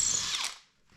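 A power drill spins a long aircraft bit through wood while installing a boat's bowsprit, a bright whirring burst that fades out after about half a second, close and alone.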